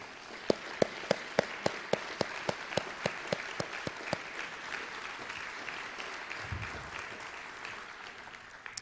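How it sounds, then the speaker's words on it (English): At a Delaware Teacher of the Year ceremony, an audience claps for the nominees' families. It opens with sharp, separate hand claps and then swells into a steady wash of applause from a crowd in a hall. "Would the family members of the nominees just stand up and receive our applause?"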